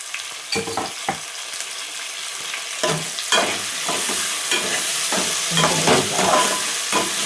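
Diced potatoes and tomatoes sizzling and frying in a pan while upma is made, with a steady hiss and repeated bursts of spatula stirring and scraping that come close and loud.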